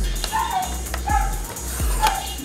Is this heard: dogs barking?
yes